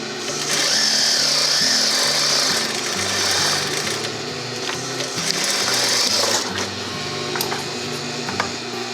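A sewing machine stitches down a fabric face mask, running in steady, fast whirring bursts with brief pauses and small shifts in speed.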